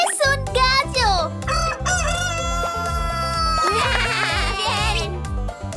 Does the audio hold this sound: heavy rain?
no